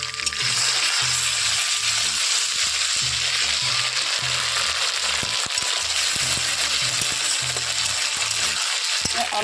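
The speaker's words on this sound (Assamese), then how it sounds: "এতিয়া মই মছলাখিনি ভালদৰে ভাজি ল'ম অলপ সময়।" Spices sizzling steadily in hot oil with fried onion and a bay leaf in a pan, a loud continuous frying hiss broken by rhythmic stirring scrapes throughout.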